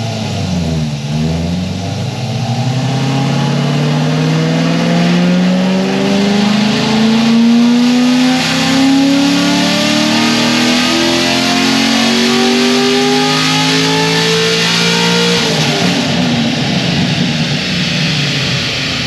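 A modified Chevrolet Corvette C6 Z06 engine roars loud and close in one long continuous pull, its pitch climbing steadily for about fifteen seconds before abruptly dropping back, with no voices over it.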